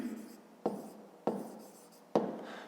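Pen writing on paper while solving a 5th-grade maths exercise: three distinct quick scratching strokes, each a sharp onset fading out, close and quiet, with no talk over them.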